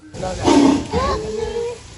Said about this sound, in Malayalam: ഞാൻ ആദ്യമായിട്ടാണ് ഗൈസ് റിയലായിട്ട് ഒരു പുലിൻ്റെ ഗർജനം